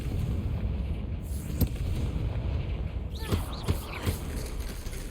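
Confringo spell blast in Hogwarts Legacy: a sharp, loud crack followed by a few more short impact bursts over a continuous game ambience.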